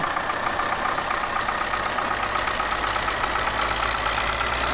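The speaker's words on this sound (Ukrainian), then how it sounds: "звуки цього двигуна були навіть до цього часу" A tractor engine in Farming Simulator 2009 idles continuously with a steady drone, low rumble and broad mechanical hum, unchanging throughout, no voices.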